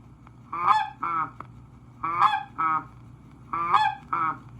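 Three evenly spaced two-note goose calls blown on a goose call, each pair ending with a lower, dropping note, sounding clear and close.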